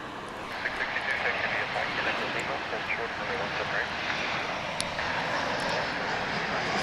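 An American Airlines Boeing 787 Dreamliner bound for Amsterdam rolls at DFW International Airport, its jet engines a steady broadband roar that holds fairly constant at middle distance while someone talks over it.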